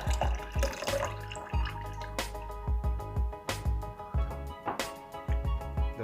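Lemon juice drips and splashes in short irregular bursts into a blender, with steady background music playing throughout.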